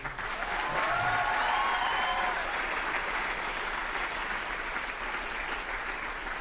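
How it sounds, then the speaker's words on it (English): An audience at a school writers' event claps steadily for a student, a dense, even round of applause that stays loud for the whole stretch, with a couple of faint voices in the mix. "Give him one more round of applause, please."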